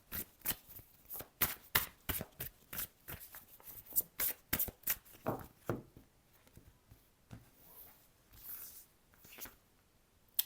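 Tarot cards being shuffled by hand, a dense run of quick riffling slaps and flutters in steady bursts up close, thinning into softer, scattered card rustles toward the end with no voices.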